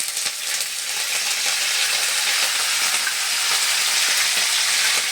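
Peanuts, urad dal and chana dal frying in hot oil for a vegetable upma make a steady, dense sizzle. It runs close and unbroken for several seconds, with small crackles and no voices.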